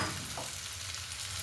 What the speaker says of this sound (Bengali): এরপরে এই ভেজে রাখা ফুলকপিগুলো আমি এর মধ্যে দিয়ে দেব।